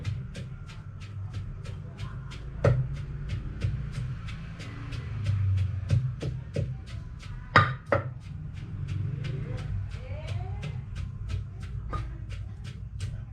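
Pork pounded in a mortar with a pestle for a home-style Thai pork dip, a steady series of sharp, close thuds at a brisk, regular rhythm, with a few louder knocks in between.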